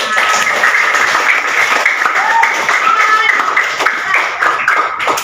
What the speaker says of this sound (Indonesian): tepuk tangan buat kelas 5